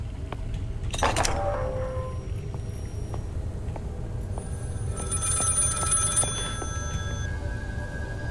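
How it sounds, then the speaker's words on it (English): An old-style telephone bell ringing inside the survival horror game Maid of Sker, two bursts of metallic ringing over a steady low ambient rumble, with faint clicks and tones in between and no talking. "I heard a phone ringing, but where's the phone?"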